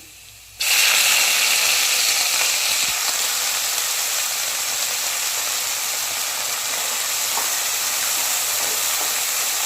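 Washed, cut broccoli hits hot oil with browned garlic, bursting into a loud hiss that then settles into a steady, sustained sizzle close by, with no talking.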